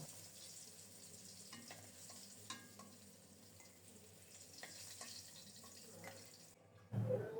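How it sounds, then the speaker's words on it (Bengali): Whole cumin seeds tempering in hot oil in a home kitchen pan, the same oil just used to fry hilsa fish pieces, giving a steady close sizzle and crackle with a louder burst of spitting right at the end. "এই তেলেই গোটা জিরা ফোড়নে দিলাম।"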